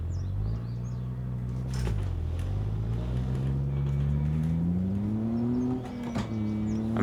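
A truck engine in BeamNG.drive revs steadily upward in pitch with a continuous droning hum, dips briefly, then climbs again, with faint bird chirps in the background.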